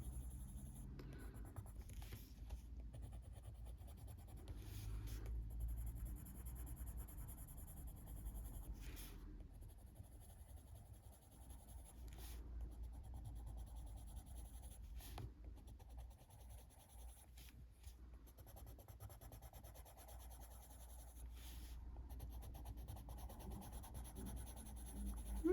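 Colored pencil shading at the bottom of a coloring-book page, a soft, continuous scratchy rubbing of a slightly blunt lead on paper with short pauses between strokes, close and quiet over low background hum.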